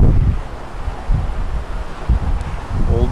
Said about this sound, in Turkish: Oldukça rüzgarlı bir havanın hakim olduğunu söyleyebiliriz.